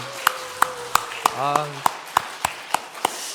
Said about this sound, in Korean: 우리 한 번 더 감사와 영광의 박수를 올려드리겠습니다